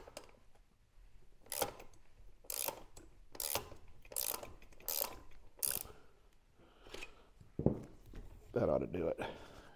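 Rapid ratchet clicks in repeated short bursts as the rear axle of a 1974 Honda XL70 motorcycle is tightened, close and crisp, with someone talking between strokes.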